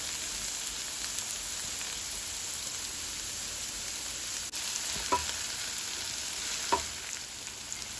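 Carrots frying in a hot pan for chicken and shrimp fried rice, a steady close sizzle with a couple of brief clinks of a utensil stirring partway through.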